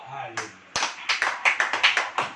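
A church congregation clapping hands during a sermon, with sharp, close, roughly regular claps, sparse at first and then settling into a steady beat after a brief spoken voice at the start.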